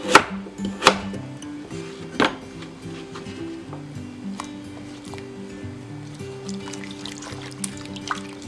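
Vegetables rinsed in a bowl of water for Jamaican Ital soup, gentle sloshing and trickling with a few sharp splashes and clinks, set against a low steady background tone.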